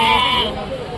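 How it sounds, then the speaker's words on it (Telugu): Goats at a village livestock market in Rajarampalli, a single close bleat that fades quickly, heard alongside a voice. "ఇవి మేకలు"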